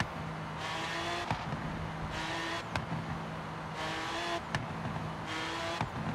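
A 2011 Lamborghini Gallardo LP 570-4 Superleggera in Forza Horizon 3, its engine and exhaust rising and falling in repeated bursts of revving with brief tire noise, moderately quiet and steady throughout.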